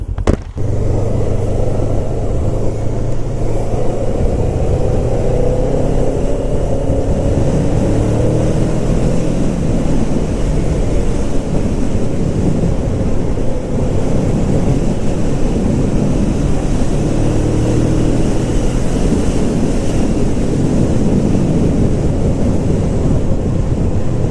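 Kawasaki ER6f Ninja 650 motorcycle ridden on the road, with a steady engine drone mixed with loud wind rush over the microphone, continuous throughout.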